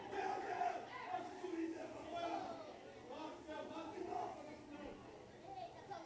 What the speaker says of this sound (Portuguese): E os ânimos da torcida vão se exaltando aqui.